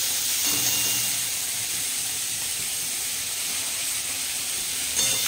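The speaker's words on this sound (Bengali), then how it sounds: "বাটারটা মেল্ট হয়ে গেছে। এবার দিয়ে দিলাম সবজিগুলো।" Chopped vegetables dropped into melted butter in a pan on the stove, giving a steady, loud broadband sizzle and hiss that holds evenly throughout without talk.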